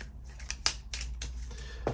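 Marvel Champions game cards are shuffled in a quiet room, giving a few crisp riffling and snapping bursts spaced across two seconds with near silence between them.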